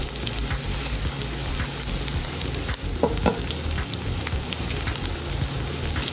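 Chopped onion sizzles steadily in a hot pan, a loud, continuous frying hiss with a few stirring clatters partway through and no talking.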